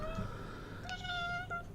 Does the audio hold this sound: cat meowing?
yes